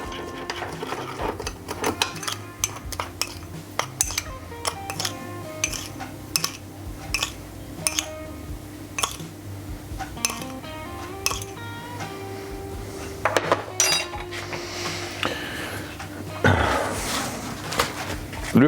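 Seasoning being mixed for a foie gras ballotin with four spices, with utensils clinking and scraping against a bowl in irregular sharp taps over a low steady background hum.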